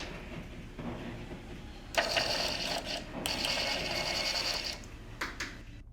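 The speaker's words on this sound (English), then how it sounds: "we built a printer that generates a receipt for what you watch on YouTube and how much time you spend on it" A small mid-century-modern-styled receipt printer feeds and prints a receipt, a whirring mechanical buzz with a brief ratcheting start and a few clicks at the end.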